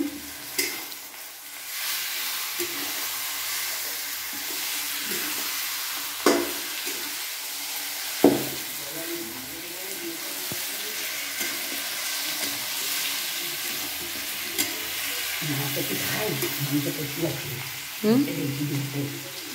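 Goat mutton fries with browned onions and garlic in a pan, a dense continuous sizzle broken by repeated scraping knocks of a stirring spoon, close and loud throughout.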